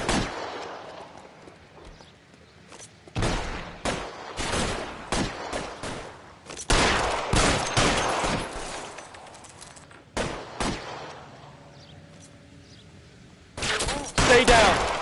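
Gunfire in the detective game LA Noire comes in repeated bursts of close, loud shots, some rapid and overlapping, split by short lulls. A voice talks during the quieter gaps.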